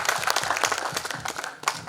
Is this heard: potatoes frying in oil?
no